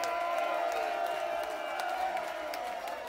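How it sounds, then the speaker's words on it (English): Festival crowd at an outdoor music show applauding and cheering steadily, a dense wash of clapping with scattered whoops, fairly loud and continuous throughout. "Put your hands together. Big round of applause."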